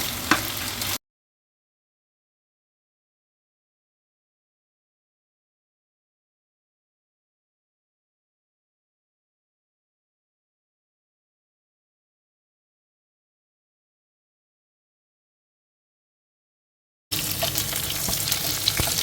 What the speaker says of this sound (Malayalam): എന്നിട്ട് ആ ഓയിലിൽ നമ്മൾ ബാക്കിയുള്ള ഉള്ളി പട്ട ഗ്രാമ്പു അതൊക്കെ വയ്ക്കുക